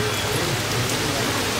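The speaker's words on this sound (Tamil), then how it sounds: "இப்போ இந்த கடகடன்னு மழை வர ஸ்டார்ட் ஆயிடுச்சுங்க" Heavy rain pours down steadily in a dense, unbroken hiss, close and even in loudness, with no voices heard.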